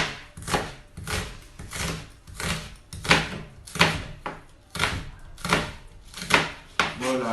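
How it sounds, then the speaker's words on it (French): A knife slices onions into thin strips on a cutting board, producing a steady rhythm of close, loud chopping strokes roughly twice per second with no talk. "vos oignons, vous les coupez en fines lamelles, comme ceci, assez fins, autant que vous pouvez"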